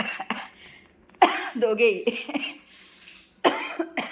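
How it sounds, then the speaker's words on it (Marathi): A few sharp coughing bursts at home, with someone talking in Marathi between the coughs, close and fairly loud. "कधी जायचा खोकला."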